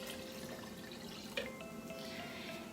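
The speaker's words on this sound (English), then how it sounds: "I'm going to put that in our blender." Water and pecans are poured into a blender to make nut milk, giving a faint, steady trickling pour with one small clink partway through and no talking.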